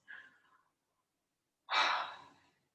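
Two pranayama breaths sound close and soft: a quiet exhale, a pause, then a stronger, forceful rush of breath that fades out slowly.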